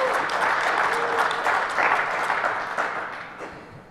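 An audience at the DEF CON 20 hacking conference applauds and cheers in a dense, steady burst that fades toward the end.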